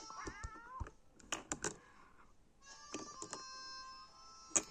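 A video game cat meows several times in short, close, clear calls, with a few soft thunks and clicks between them and no talk.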